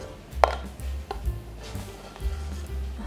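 Knife chopping walnuts into large pieces on a board for an egg-white fruitcake, several sharp, close chops at an uneven pace over a low background rumble.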